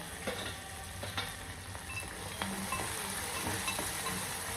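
Onion, chillies, garlic and peanuts frying in oil for Maharashtrian thecha chutney, a soft continuous sizzle with occasional scraping and stirring clicks, fairly quiet and close, no voices.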